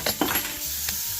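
Mushrooms toss in a lightly oiled pan with a gentle sizzle, a few soft scraping stirs at the start and one more shortly after, over a steady low hiss.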